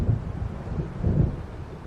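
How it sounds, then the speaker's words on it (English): Low rumbling thunder and gusting wind of an approaching storm in the video game Alan Wake Remastered, a steady, fairly loud dark roar with two swelling rolls. "It seems there's a storm coming."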